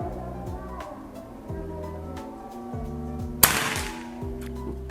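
Predator Escobar PCP air rifle with a jumbo plenum fires a single sharp crack midway, standing out against low background noise and faint tones.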